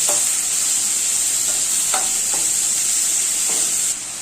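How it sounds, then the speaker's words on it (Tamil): Onions and green chillies frying in a pan with a loud, steady sizzle, punctuated by a few light spatula scrapes as they are stirred; no voices. "அதோட 2 பச்சை மிளகாய், 2 பெரிய வெங்காயம் கட் பண்ணி சேர்த்துக்கலாம். சேர்த்துட்டு நல்லா வதக்கிக்கலாம்."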